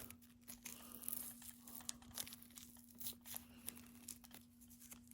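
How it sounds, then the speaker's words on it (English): Tape peeled off a PRS CE24 electric guitar during a piezo pickup install, soft close tearing and crinkling in short pulls over a steady electrical hum, no talk. "Take off the tape."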